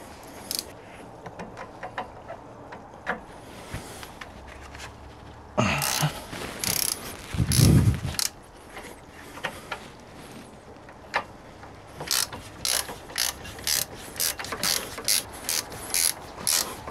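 Ratchet wrench loosening the brake caliper screws on a Citroën C3 1.4, quiet bursts of rapid clicking pawl ticks separated by pauses, with a louder clunk of metal partway through.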